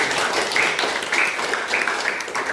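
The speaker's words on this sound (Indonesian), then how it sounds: "Iya, berikan tepuk tangan." Classroom students give steady, continuous applause during a lesson on coding and computational thinking, a dense close patter of many hands without pause.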